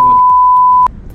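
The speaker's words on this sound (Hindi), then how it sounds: "मैं बीप डाल दूंगा बीच पे" A loud, steady censor bleep, a pure electronic tone held for most of a second and then cut off, with faint background noise after it.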